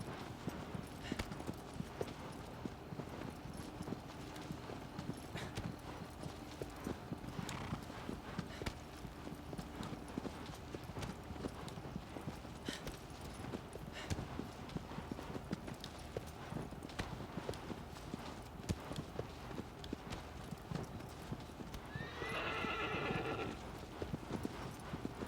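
A horse galloping in Shadow of the Colossus: a quiet, continuous run of rhythmic hoofbeats clip-clopping at a steady pace, with a short whinny near the end.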